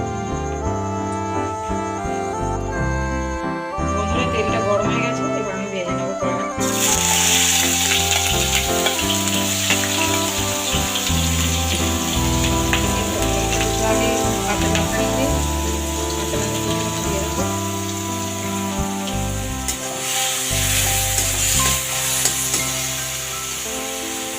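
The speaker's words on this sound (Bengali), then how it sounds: "রসুন পেঁয়াজ এটা ভেজে নেবো" Chopped garlic and onion frying in hot mustard oil in a wok: a loud, continuous sizzle that swells sharply a few seconds in and keeps crackling steadily, over faint background music.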